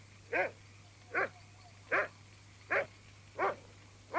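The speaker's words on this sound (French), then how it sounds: "Ce chien a attrapé un raton laveur." A dog barks five times at evenly spaced intervals outdoors on a clear night, each bark sharp and moderately near, with a steady low hum running underneath and no talking.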